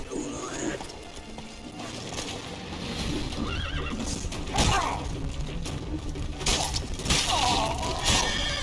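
In The Witcher 3 video game, a horse neighs and whinnies several times over clip-clopping hooves and game ambience, with bursts of crashing and clattering noise mixed in.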